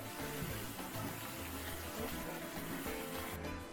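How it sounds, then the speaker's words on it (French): Hands stirring grated coconut in water while making coconut oil: a steady, continuous sloshing and swirling of water throughout, close and fairly loud, with no talking. "il suffit de mettre de l'eau et de brasser avec vos mains"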